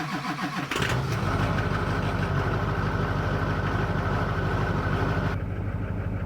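A Duramax LB7 diesel truck engine with a ZF6 manual gearbox cranks briefly on a very cold morning of about 16 degrees and catches at once. It settles into a loud, steady, close diesel idle with no voices.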